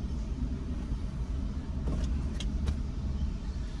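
Street traffic at a city intersection in Savannah, Georgia, with trucks and other vehicles, forms a continuous low rumble of engines and tyres, with a few brief passing whooshes midway.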